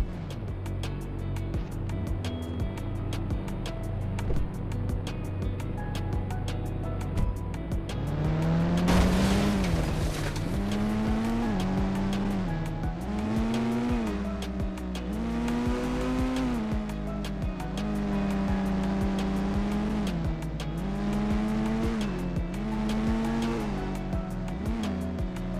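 Rolls Royce car driving in the Indian Bikes Driving mobile game, its engine droning steadily, then revving in repeated rising and falling pitch swells over a constant synthetic hum, with no talking.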